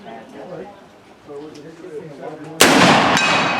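A black powder rifle fired at a swinging steel target at a Victorian rifleman shoot in Bowling Green, Kentucky: one loud, sharp report with a long ringing tail, following quieter chatter and talk from the shooters.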